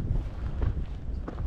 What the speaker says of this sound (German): der Wind weht recht stark.